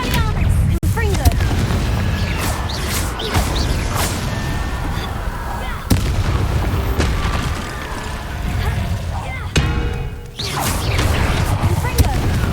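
Booming magical blasts from the Confringo spell in Hogwarts Legacy, with repeated loud impacts and crashes over a rumbling din, while spoken voices carry on throughout.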